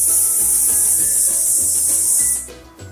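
A voice imitates the letter S in a phonics lesson, holding one long, steady, loud hiss for about two and a half seconds before it cuts off.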